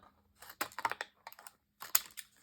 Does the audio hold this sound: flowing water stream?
no